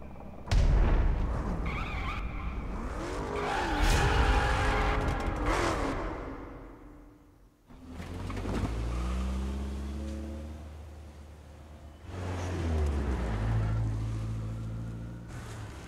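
A car in the racing video game The Crew drives along with a loud, continuous engine drone that swells and fades, dipping briefly midway before rising again, with no one talking over it.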